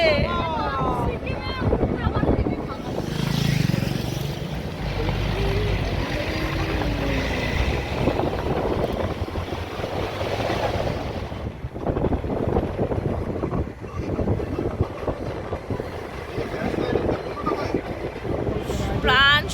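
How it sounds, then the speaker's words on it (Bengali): Cold wind rushes past during a Vande Bharat train journey climbing into the hills, a loud, steady blustery roar against the microphone mixed with train rumble, with voices heard at times. "অসাধারণ ঠান্ডা ঠান্ডা হাওয়াও চলে এসছে"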